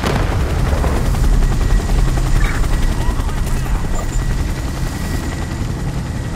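Helicopter air support over the Elliott Center in Gotham Knights, a steady loud rotor roar blanketing the scene while bursts of gunfire crackle through it.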